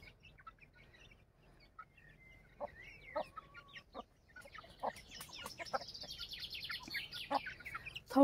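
Chickens cluck and squawk nearby, scattered calls at first growing busier and louder toward the end, with a sharp squawk closing it.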